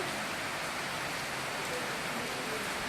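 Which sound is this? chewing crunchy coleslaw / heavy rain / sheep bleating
heavy rain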